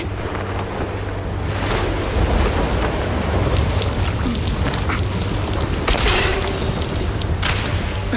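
Wind gusts through a scene in the video game Zenless Zone Zero, a steady broadband rush that swells in a few stronger gusts, with no voices over it.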